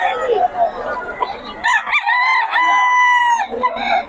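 A rooster crows loudly and close by, one long drawn-out call rising over background clucking and some faint talk.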